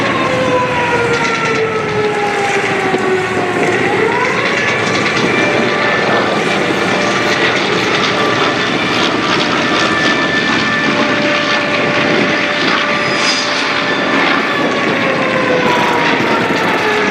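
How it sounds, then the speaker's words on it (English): A loud aircraft engine drones steadily at the Oshkosh AirVenture airshow, its pitch sliding downward early on as it passes, then holding a continuous roar with faint tonal whines layered over the top. "I remember flying that airplane."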